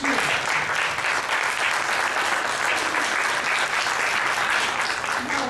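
A forum audience at a press club event applauds after a political speech with continuous, full-bodied clapping from a sizeable crowd that holds steady for several seconds without speech.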